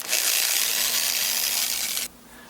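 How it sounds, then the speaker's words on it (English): Power drill boring a pilot hole in a steel clutch arm held in a vise for a cable-to-hydraulic clutch conversion, a steady, bright high-pitched whine with grinding that cuts off abruptly near the end. "Once the punch was made, I was able to remove the template and then begin drilling, as you can see here."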